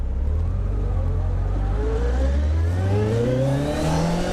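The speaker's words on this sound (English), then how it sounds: "I just haven't mastered the art of pulling away in a bike engine" A Suzuki Hayabusa first-generation motorcycle engine revs up steadily, its pitch climbing as it accelerates, loud and close, with no voices.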